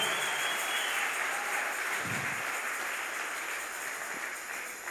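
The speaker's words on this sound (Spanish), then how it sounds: "Dale palmas al Señor de la gloria." Church congregation at a women's retreat applauding together, dense continuous clapping that stays loud and even for the whole stretch before easing slightly at the end.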